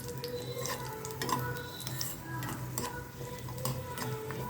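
Cashew nuts fry in a pan while sweet pongal is being made, giving a faint, steady sizzle broken by light ticks and clicks of stirring against the metal.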